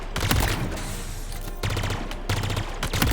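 Pulse carbine fire in Halo Infinite, loud rapid bursts of energy shots in several clusters with brief pauses between volleys, close and alone with no talk.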